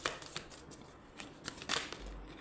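Tarot cards are shuffled and laid down close by, with soft quick riffles and light slaps over a faint steady background.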